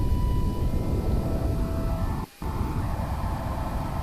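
A steady, broad roar of a spacecraft rocket engine burn in Kerbal Space Program, running continuously with a brief dropout partway through before resuming at the same level.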